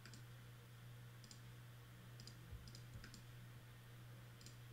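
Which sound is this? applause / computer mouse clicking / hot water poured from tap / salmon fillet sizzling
computer mouse clicking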